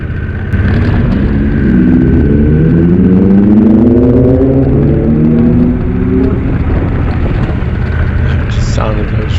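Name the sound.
road motorcycles passing by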